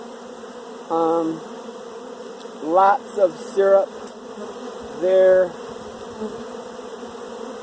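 Honeybees hum steadily during a brood nest inspection, a low continuous buzz running beneath a few short bursts of nearby speech.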